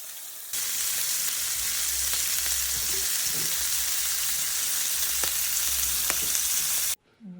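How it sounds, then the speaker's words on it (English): Shrimp frying in a hot pan give off a steady, loud sizzle that hisses continuously for several seconds, with a few faint clicks and scrapes mixed in before it cuts off abruptly. "let's go ahead and fry our shrimp up"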